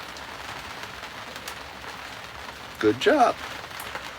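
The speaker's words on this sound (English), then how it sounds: "So it's nice to be able to sit out in the rain" Steady rain patters on a boat cockpit on a river, a soft, even hiss throughout, with a short spoken remark near the end.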